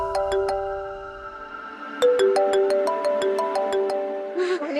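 A phone rings with an incoming call, a bright repeating electronic melody that plays through, pauses briefly and then starts again, loud and close with no one speaking.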